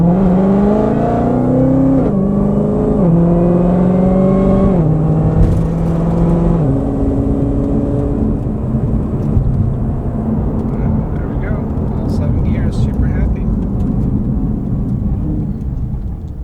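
A Ford GT500 with a 3.8L Whipple supercharger drives on a test run, its engine loud and close, pitch climbing through gears with shift breaks, then settling into a steady cruising drone.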